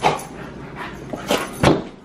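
Several puppies yip, whimper and bark in short bursts close by, with scuffling sounds of playful puppies throughout.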